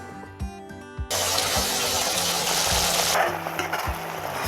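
Tamil vatha kuzhambu curry with added water bubbles and sizzles loudly in a pan with a steady hiss, punctuated by a few soft, regular knocks from stirring.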